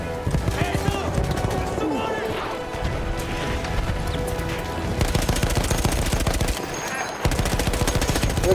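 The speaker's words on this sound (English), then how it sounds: "This is like the earliest version of minigun." An early minigun fires in Battlefield 1 in long, dense bursts of rapid rattling shots, loud and close, broken by a couple of brief pauses amid battlefield noise and a voice talking over it.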